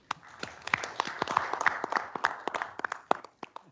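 Round of applause at a town select board meeting, a moderate crowd of sparse, distinct hand claps for several seconds, fairly close and thinning out toward the end.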